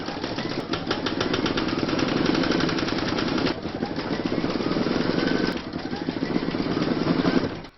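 An embroidery machine stitches a dove design in the hoop with a fast, steady mechanical chatter of the needle, loud and close, running continuously with a brief change in pace partway through.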